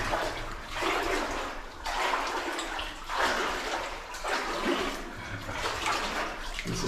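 Water splashes in a flooded tunnel of the old Talisman gold mine in Karangahake Gorge, New Zealand, with rhythmic wading sloshes roughly every second echoing in the enclosed passage.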